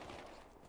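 Deep, bassy gunfire in a Battlefield video game, a brief muffled burst of shots heard faintly in under a second.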